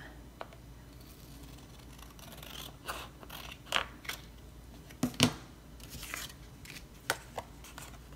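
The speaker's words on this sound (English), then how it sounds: "get out my scissors, cut this off the bottom" Several crisp snips of scissors cutting, irregular and close, with light rustling and handling noises between cuts.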